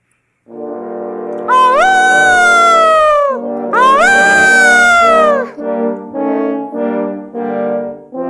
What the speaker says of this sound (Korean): 그리고 늑대는 호른을 소개해요.